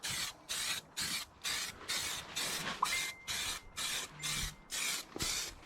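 A spray gun puts primer onto the engine bay of a BMW E36, hissing in regular bursts of about half a second with short pauses between passes, close and fairly quiet, with faint background noise.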